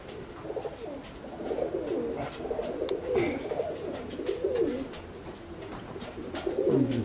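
Pigeons coo steadily over several seconds in an outdoor setting, a layered, rolling murmur of soft calls with a louder burst near the end; no talking.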